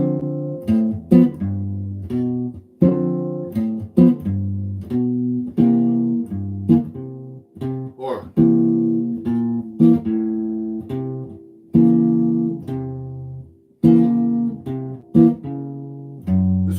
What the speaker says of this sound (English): You got to play that syncopation before you get to the next chord.